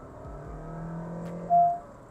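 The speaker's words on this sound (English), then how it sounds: "if you want to put the pedal to the metal, well, then it does become a bit noisy" A 2023 Honda City hybrid with an eCVT under hard acceleration, heard from inside as a low, steady engine drone with a thin whine and a brief swell partway through.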